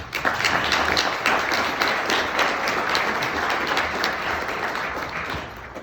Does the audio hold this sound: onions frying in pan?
no